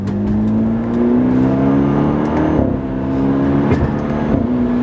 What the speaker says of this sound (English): you can even hear it in my exhaust, it kind of farts